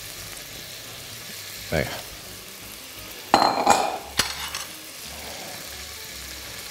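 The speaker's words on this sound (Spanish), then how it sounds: "Lo freímos un poquito." Bread frying in a little oil in a pan for Castilian garlic soup, a soft sizzle beneath brief utensil clinks and scraping, with a short spoken word early on.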